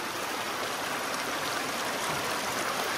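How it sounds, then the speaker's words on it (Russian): Water flows out of a pipe in a steady, continuous rushing stream, close and even throughout, with no voices. "вот отсюда эта вода выходит"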